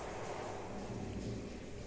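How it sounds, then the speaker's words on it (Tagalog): Steady heavy rain hisses over a low, rolling rumble of thunder, with no voices, during a storm in Qatar. "Parang malakas ang hangin at kidlat sa labas at saka ulan."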